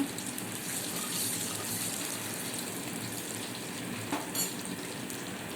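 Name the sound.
garlic sautéing in hot oil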